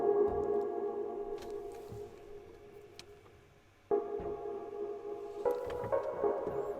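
Granular sample loop run through a chorus effect, a sustained tonal drone with shimmering overtones and faint clicks; it dips quieter, then swells back fuller and brighter partway through, with no talking.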